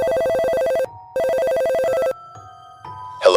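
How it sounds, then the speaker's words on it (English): Mobile phone ringtone ringing loudly in two repeated melodic bursts separated by a short gap, followed by a quieter tone at the end. "his phone rings."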